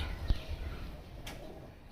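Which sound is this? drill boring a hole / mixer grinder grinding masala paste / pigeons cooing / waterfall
pigeons cooing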